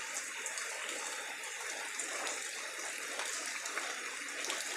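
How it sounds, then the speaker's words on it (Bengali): Steady rain pours down over a village on a hot day, a dense, even hiss with scattered sharper drops pattering on surfaces, loud and continuous with no voices. "বৃষ্টি বৃষ্টি।"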